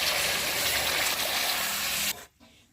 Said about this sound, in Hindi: अब हम इसमें जो हमने गुड़ का शीरा बनाया था वो डालेंगे।